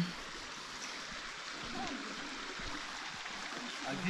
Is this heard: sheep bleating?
no